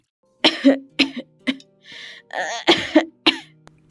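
An elderly grandmother character in an animated cartoon, voiced by an actor, gives a burst of about six harsh, close coughs with throat clearing, loud and alone.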